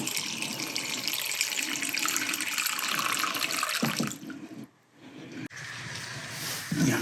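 Steady rush of water running from a tap into a bowl, continuous for several seconds, then briefly cut off and resuming.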